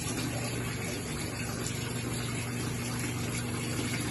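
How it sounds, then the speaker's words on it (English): Tap water runs steadily into a basin being filled for rinsing laundry, a continuous broad gushing rush with a low hum underneath, constant and close throughout. "Just wait for the basin to fill."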